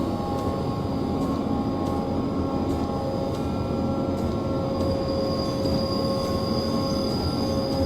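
BR101 electric locomotive running on the Hamburg–Hanover line in Train Simulator, a steady loud rolling rumble with a constant electric whine throughout and faint rhythmic clicks from the wheels.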